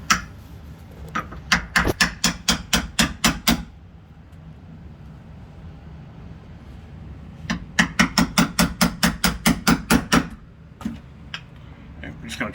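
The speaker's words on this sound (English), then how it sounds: "I like to start with a 1/2 inch chisel. Come right on our line." A hammer drives a half-inch chisel into the edge of a slab door, two bursts of sharp, rapid, evenly spaced strikes with a quiet pause between them, close and loud, then a few scattered taps.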